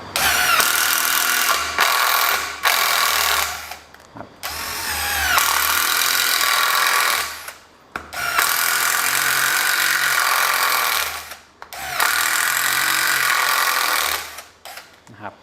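A Makita TD110DWYE cordless impact driver, used for drilling, whirs loudly in several long bursts, stopping and restarting between runs, with brief pauses of quiet.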